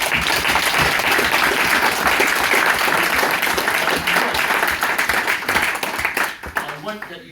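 A comedy gig audience for wounded, injured and sick veterans breaks into loud, sustained clapping and applause that fills the room, then thins out toward the end.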